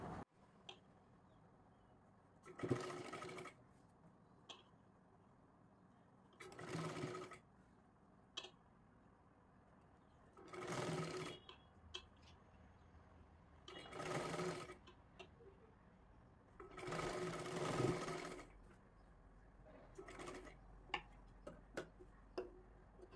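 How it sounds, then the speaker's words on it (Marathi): A sewing machine stitches a blouse with four tucks and piping, running in about five short, even bursts of rapid mechanical whirring, each followed by a pause. "हे पहा अशा पद्धतीने पकडायचं आहे आपल्याला आणि शिलाई मारून घ्यायची आहे व्यवस्थित."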